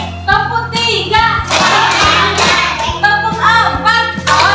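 Children in a classroom clap a rhythmic class pattern, sharp hand claps landing in quick groups over background music, with young voices chanting along between the claps.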